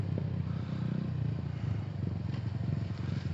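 An XMOTOS motorcycle ridden by a boy, a steady close engine drone with rattling clatter and no talk.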